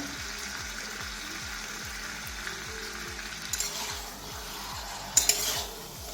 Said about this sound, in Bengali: এই যে মাংস কষা চলছে আমার